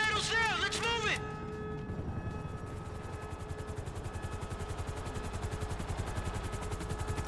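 A helicopter in Grand Theft Auto V flies in with a steady, rapid rotor thump and turbine whine that holds for several seconds, following a brief spoken voice at the start.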